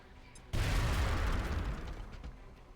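A grenade detonates in the turn-based strategy game XCOM Long War, a sudden loud burst with a deep rumbling boom that slowly fades over a couple of seconds.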